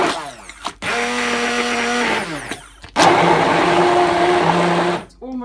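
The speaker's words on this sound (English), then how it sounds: "it's not clogging up my blender" A kitchen blender roars loudly while pulping shredded paper with water, running in two long bursts with a brief pause between them.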